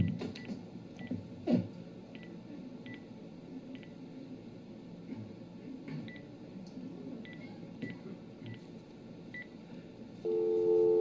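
Telephone keypad dialing tones sound through a speakerphone: a quick series of short, moderately loud beeps over room noise, followed by a steady ringback tone near the end.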